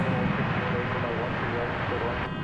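American Airlines Airbus A321 touching down at DFW after dark, a loud, steady close jet roar throughout with a voice talking over it.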